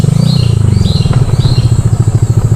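A scooter rides slowly over a rough road near a river camp in Tanay, Rizal, its engine pulsing steadily and loudly up close, with faint bird chirps in the background.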